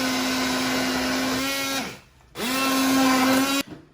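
Kitchen blender whirring loud and steady while mixing mushrooms with cream, running in two bursts with a brief pause between them.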